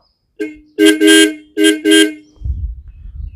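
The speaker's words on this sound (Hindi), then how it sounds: "बहुत शानदार इसका हॉर्न है।" A Royal Enfield Bullet Classic 350 motorcycle's single horn honks several times in short, loud bursts close by. A low engine idle rumbles on afterward.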